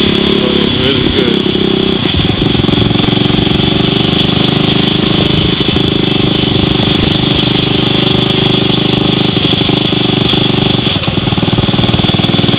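A Honda S90 motorcycle engine runs loud and close in a continuous rattling putter on Oahu, Hawaii, holding steady throughout with no talk.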